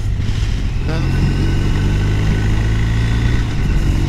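BMW R1250RS sport-touring motorcycle engine running steadily on a first ride, a loud continuous low rumble with a slight rise in pitch near the start, with a rider's voice talking over it.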